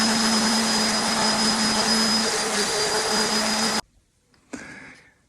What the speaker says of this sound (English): I'm going to sand this up and then oil it up and finish it off.